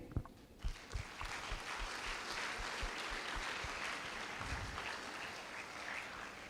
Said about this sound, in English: Let's give a round of applause to them before even I begin.